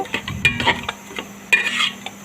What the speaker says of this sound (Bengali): এখন আমি মাছের মাথাটা দিয়ে দিলাম এখন মশলার সাথে ভালোভাবে উল্টিয়ে পাল্টিয়ে নিয়ে মাছের মাথাটাকে